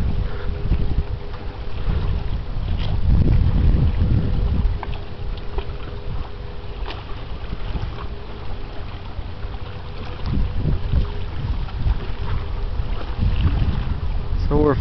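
The freighter Algoma Buffalo sails down a river, a deep continuous rumble beneath loud, gusting wind buffeting the microphone for the whole stretch.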